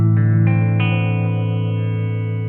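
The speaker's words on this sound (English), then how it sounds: "it's a fantastic analog delay" Electric guitar run through an analog delay pedal with pitch-modulation rate and depth controls, several plucked notes at the start ringing into a sustained chord with dark, wobbling delay repeats, loud and close with no talking.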